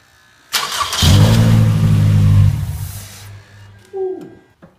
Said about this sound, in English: We're gonna do a test start.